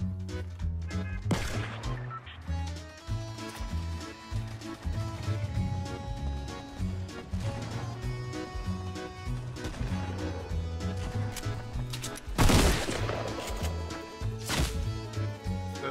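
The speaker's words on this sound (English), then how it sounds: "They're shooting!" Gunfire in Fortnite: repeated shots and impacts over a dense, continuous game soundtrack, with a loud burst of crashing blasts near the end and no speech over it.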